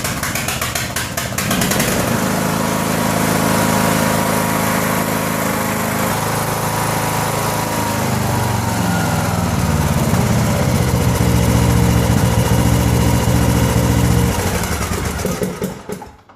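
Craftsman LTS 2000 lawn tractor engine starting and running steadily for about fifteen seconds, a loud, close, continuous droning hum that shifts pitch partway through, then cuts off at the end.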